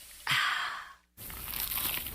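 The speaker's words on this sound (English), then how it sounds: "Is that the sound of an ooey gooey cheesy crunchy slice of P-I-Z-Z-A?" A crunchy bite into a cheesy pizza slice, a loud crisp crackling crunch lasting most of a second, then a short gap before more close, noisy chewing and crumbling.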